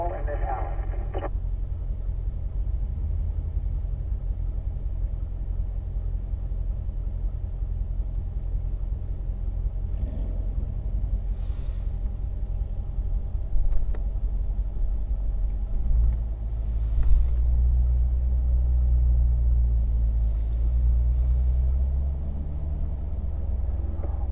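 Cars roll out onto the Spring Mountain track under a constant low engine rumble that swells slightly toward the end, with radio-style talk over it.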